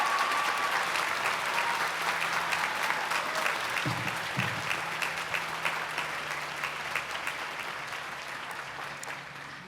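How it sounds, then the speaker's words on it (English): A large commencement audience at Harvey Mudd College's 2025 ceremony gives sustained, steady applause, with many hands clapping at an even level that slowly fades toward the end. "Let's give a round of applause for that,"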